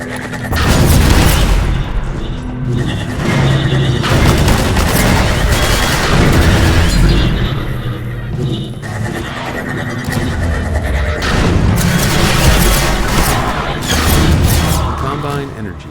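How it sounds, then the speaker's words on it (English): An energy ball from Half-Life 2 slams into its target and explodes, a dense run of loud booming blasts and crashing debris that keeps rolling for many seconds without a break. "the sounds made for its impact and explosion sounded less like produce and more like what we have here in the game"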